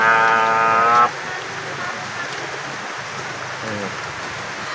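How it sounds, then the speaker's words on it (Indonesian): Steady rain hisses down continuously at a moderate level, following a brief stretch of voice at the very start. "Hujan."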